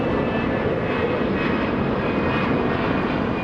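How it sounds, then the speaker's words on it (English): A loud Delta airliner takes off at LAX, its engines roaring as a dense, steady broadband rumble with a faint high whine, continuous and close throughout. "As a very loud Delta aircraft takes off."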